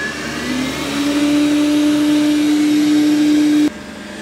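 A Dreametech L10S Ultra robot vacuum and mop combo runs with a loud, steady motor whine and airy roar close by, then abruptly drops to a quieter hum near the end.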